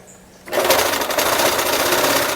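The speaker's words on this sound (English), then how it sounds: "you pull it through your presser foot and go through your presser foot" A sewing machine stitching the hem of a chiffon dress starts up abruptly after a short quiet moment, then runs as a loud, steady rapid whirring buzz to the end.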